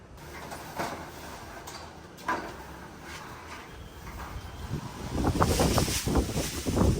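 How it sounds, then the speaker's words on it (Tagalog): Strong gusty wind buffeting the microphone, a steady rushing roar that grows stronger and rougher toward the end, with a few faint bumps. "Oh, malakas ang hangin."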